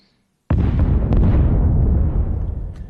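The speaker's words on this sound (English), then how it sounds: "So I have these 3 explosions here for the main parts" A layered explosion sound effect assembled in Pro Tools bursts in suddenly after a short silence, a loud, dense, rumbling blast that sustains heavily and only begins to thin out toward the end.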